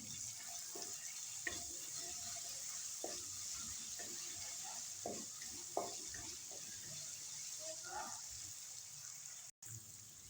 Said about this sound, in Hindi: इसको हम थोड़ा सा कड़कड़ा लेंगे।